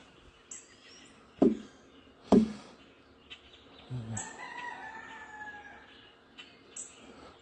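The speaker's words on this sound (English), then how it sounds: "That was a loud rooster then." A rooster crows from some distance in a quiet outdoor setting at sunrise, with a couple of sharp knocks and faint birdsong around it.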